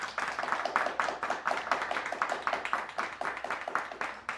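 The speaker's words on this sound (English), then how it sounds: "Let's hear some more applause for our audience." An audience applauding at an English-learning show, with steady rhythmic hand clapping, close and fairly quiet, and no talking.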